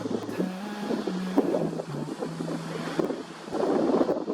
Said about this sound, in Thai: ลมแรงมากเลยนะครับ